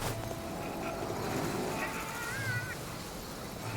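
A cat meows from the video game Ghostwire: Tokyo, a couple of short thin cries partly under a person talking over the game's ambient background.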